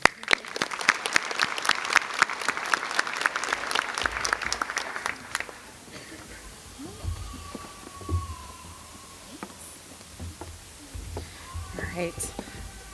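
Dense applause from a ceremony audience for nursing graduates at a winter pinning ceremony, loud rapid clapping for about five seconds before fading to scattered claps and quiet room murmur.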